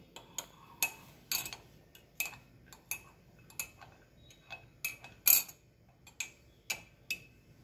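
Spoon clinking against a cup while stirring lemon and tulsi leaves into natural green tea, a series of light, sharp taps at an uneven rhythm with quiet gaps between, close by and without talk.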